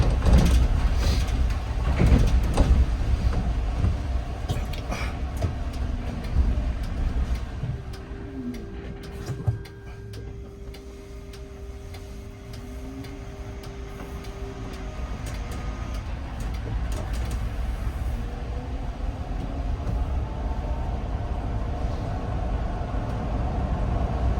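A Solaris Urbino 9LE Electric city bus pulls away, its rumbling rolling noise building alongside a rising and falling electric motor whine, heard from inside over steady cabin hum.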